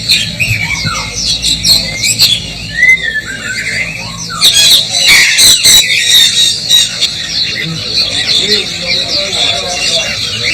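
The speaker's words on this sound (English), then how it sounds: "what stand out are the songbirds" Songbirds chirp and squawk in bright bursts at an outdoor Hong Kong bird market in the rain, close and lively, with a voice talking over them.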